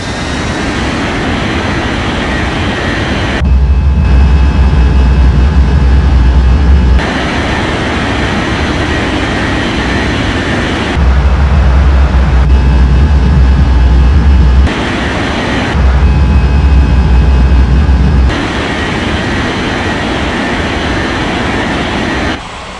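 Jet engines drone loudly and steadily in an air traffic control video game, swelling into heavier, deeper roars in several long stretches as aircraft spool up for takeoff, with no voices.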